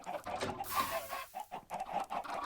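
Chickens in the Minecraft video game cluck busily and continuously, several calls overlapping, close and fairly loud with no talking.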